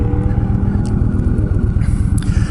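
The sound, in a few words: 1300cc cruiser motorcycle engine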